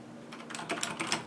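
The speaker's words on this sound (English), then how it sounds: "The keys feel nice too, like when you're typing." Keystrokes on a Razer BlackWidow Chroma mechanical keyboard sound as a quick, irregular burst of clicky taps, close and fairly quiet, with no voices.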